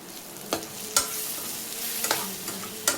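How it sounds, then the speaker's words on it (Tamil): Spices sizzle gently in a pan while a spoon scrapes and stirs them, with a few sharp clinks against the metal. "இதையும் சேர்த்து நல்லா வதக்கி விட்டுக்கிடணும்."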